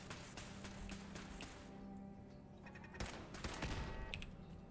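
Turrets firing in Fallout 4 as rapid, crackling bursts of gunfire, moderately loud, with a steady mechanical hum underneath and denser volleys toward the end.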